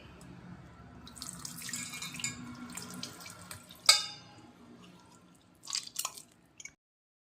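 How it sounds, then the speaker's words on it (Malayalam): Squeezed, soaked tamarind water streams steadily into a vessel, a continuous close trickle that stops abruptly, followed by a few scattered drips and small splashes before quiet. "അത് പിഴിഞ്ഞ് ആദ്യം ഈ പാത്രത്തിലോട്ട് ഒഴിക്കണം."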